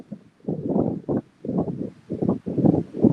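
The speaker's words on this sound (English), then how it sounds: "It is so windy." Strong wind at a cemetery buffets the microphone in repeated heavy gusts, a low roaring rumble that surges and drops every second or so, close and fairly loud, with no talking.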